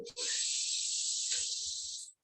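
A long, steady inhaled breath during a children's yoga session, a loud airy hiss lasting about two seconds, heard close and alone.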